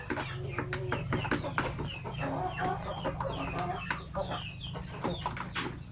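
Egg-laying backyard hens fed on coconut pulp cluck steadily and close by, short overlapping clucks and squawks over a constant low hum.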